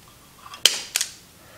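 Wire being cut to length for a Jeep towed-vehicle charge line installed with a Hopkins RV toad wiring kit: two crisp, close snips about a third of a second apart, with a quiet room around them.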